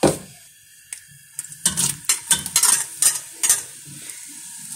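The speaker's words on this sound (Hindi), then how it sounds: "अब इसके अंदर मैं प्याज ऐड करूँगी" Onions hit hot oil in a pan for keema macaroni with a loud initial sizzle, followed by a series of scraping stirs against the pan over a soft background fry.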